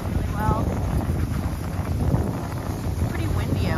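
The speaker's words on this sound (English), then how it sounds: "It's pretty windy out here" Strong wind sweeps across frozen Lake Superior during a winter dog-sled trip, a loud steady rush buffeting the microphone throughout, with faint whining tones on top.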